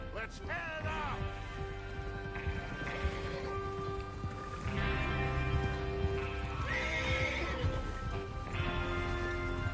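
Horses whinny and snort over a low rumble of hooves and movement in the video game Red Dead Redemption, with loud neighs rising twice and a busy, close soundscape throughout.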